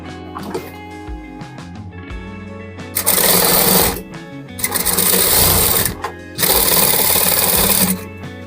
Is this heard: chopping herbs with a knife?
no